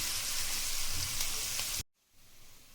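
Cumin and onion fry in a pan for a boiled egg fry, making a soft close sizzle and crackle that cuts off abruptly near the end, leaving a faint quiet background.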